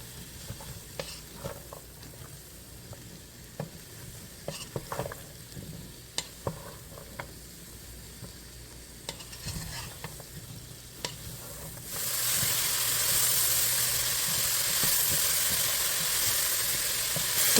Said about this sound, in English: Add the chopped leeks and celery and saute everything until soft and translucent.